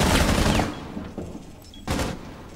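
Gunfire in the tactical shooter Rainbow Six Siege: a dense burst of rapid automatic shots, then two shorter bursts after pauses, loud and close with no talk.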